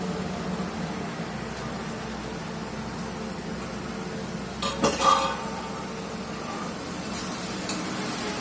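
Lentils tipped into spices frying in a cooking pot: a steady, close sizzle and fry with spoon stirring, a short cluster of metallic clinks and scraping from the pot in the middle, and no voices.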